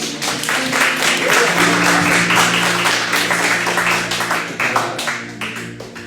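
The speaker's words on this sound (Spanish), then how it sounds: "Denle un fuerte aplauso al Señor." A church congregation breaks into strong applause, dense clapping swelling then gradually thinning out over several seconds, with some voices mixed in.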